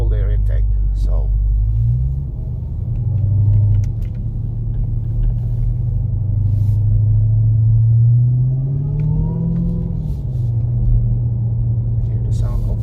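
A 2021 Dodge Charger Hellcat Widebody fitted with a JLT cold air intake and pre-filter rumbles at a deep, close idle, swelling twice into brief revs with a rising whine, while someone talks.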